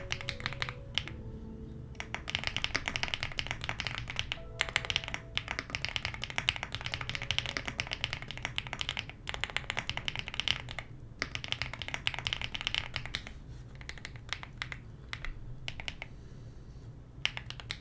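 Dense, steady clatter of typing on a computer keyboard during a livestream coding session for a voxel game, with fast irregular key presses close up running throughout and brief pauses between bursts.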